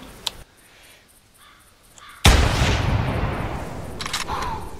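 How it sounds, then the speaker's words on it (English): In the Hirschfelden hunting game, a hunter's rifle shot cracks out loud and sudden midway through, followed by a long fading rumble of echo, with crows cawing faintly before it. "Did anyone hear my shot?"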